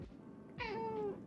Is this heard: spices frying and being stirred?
no